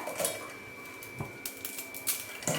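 Dry Maggi instant noodles snapped by hand into a pan: several short, crisp cracking snaps scattered over a couple of seconds, close and fairly quiet, with no talking.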